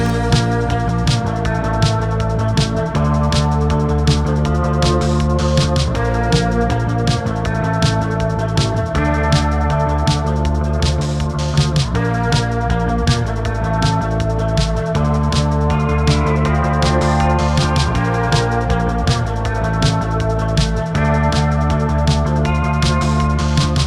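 A loud post-punk beat chorus plays continuously, with a driving drum pattern under layered Guitar Rig 7 guitar and low end, dense and steady throughout.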